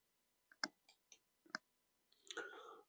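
Several sharp computer mouse clicks close up, a handful of separate taps spaced irregularly in a quiet room, followed by a brief rustle at the end.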